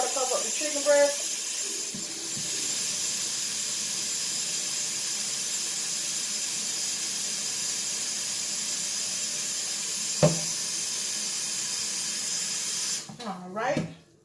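Tap water runs steadily into a cooking pot in a kitchen, a constant hiss and gush lasting about eleven seconds with a brief clatter partway through, bracketed by short bits of clattering and movement at the start and end.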